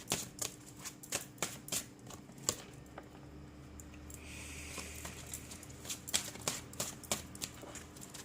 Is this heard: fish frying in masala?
no